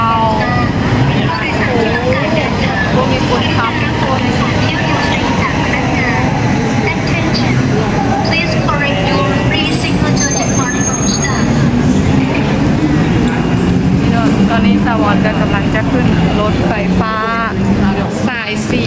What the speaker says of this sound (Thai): ตอนนี้รถไฟฟ้ากำลังจะมาทุกคน